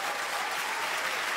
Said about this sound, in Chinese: 来，掌声送给他